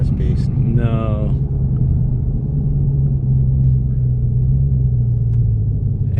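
A 2019 Dodge Challenger Hellcat Redeye downshifts in slow traffic, its rev-matching system giving one quick rising throttle blip over a steady, heavy low engine rumble, heard from inside the car.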